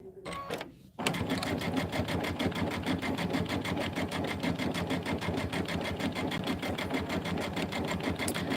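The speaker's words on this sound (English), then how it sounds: "It's fun to play with our machines and do some quilting and some fun stuff." A computerized sewing machine quilts a fill design on a small zippered bag, its needle chattering in a fast, steady, even rhythm up close after a brief quieter start.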